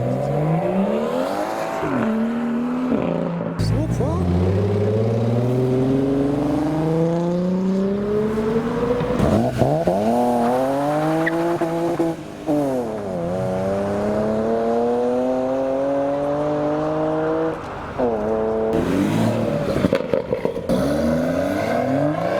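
Koenig-modified Ferrari Testarossa, left-hand drive, at a car meet, its flat-twelve revving repeatedly in long climbing sweeps that fall back to idle, loud and close with no talk.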